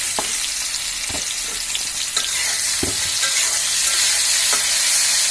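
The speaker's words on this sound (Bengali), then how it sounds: "আমাদের তেলটা গরম হয়ে আসলে এর মধ্যে আমরা যে বেগুনটা মেখে রেখেছি সেই বেগুনগুলো এর মধ্যে দিয়ে দিব।" Pieces of spice-coated eggplant fry in hot oil, a loud constant close sizzle broken by several sharp scrapes and knocks of a spatula against the pan.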